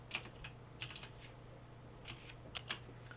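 Several separate key clicks on a computer keyboard, about seven sharp taps spaced irregularly over a few seconds as a shortcut is pressed, with a low steady hum beneath and no talking.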